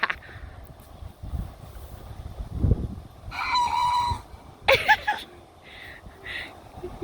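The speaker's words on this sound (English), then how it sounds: "He sounds like a sick animal when he crows." A rooster crows hoarsely and strangely, a rough, sick-sounding call in two bursts over outdoor wind noise, with other farm sounds nearby.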